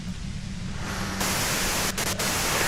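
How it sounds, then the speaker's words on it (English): Steady, loud white-noise static fills the whole stretch in the video game Disco Elysium, a constant hiss that grows slightly brighter partway through, with no voices over it. "you can do it through the white noise."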